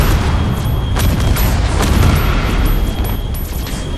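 Space combat video game in which an S S S Conveyance corvette fires its weapon salvo at a pirate ship: a dense, loud barrage of booming shots with repeated sharp bursts over a constant rumble, no voices.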